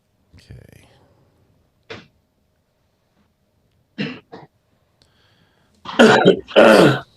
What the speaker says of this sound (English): That was a loud cough.